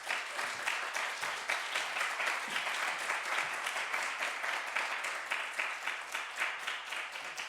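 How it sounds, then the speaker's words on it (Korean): A church congregation at a Baptist Sunday worship service applauds loudly to welcome the pastor to the pulpit, a dense, sustained wash of many hands clapping at steady volume, alone without voices. "가장 큰 박수와 함성으로 목사님을 맞이하겠습니다."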